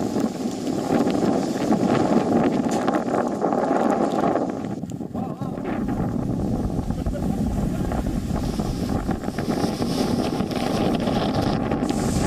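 Strong wind blows in Gujarat after Cyclone Tauktae. The gusts roar as loud, continuous buffeting against the microphone, with a low rumble underneath that rises and falls, and a voice talks faintly beneath it.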